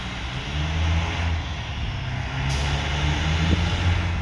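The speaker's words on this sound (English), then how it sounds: "So that truck, there is a truck coming." A truck rumbles past at the Canada–USA border crossing, a low steady engine drone with a brief hiss like an air brake partway through, fairly close and without talk.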